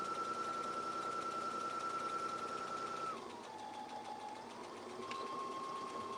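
A sewing machine stitches a seam with a steady, close motor whir that slows partway through, then picks up speed again near the end, heard alone without talking.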